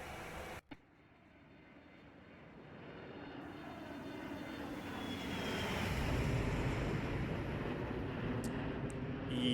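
A Boeing 737-300 in a flight simulator flyby view, its jet engines rising from a faint hiss into a louder, broad roar as the airliner passes close, after a brief click at the start.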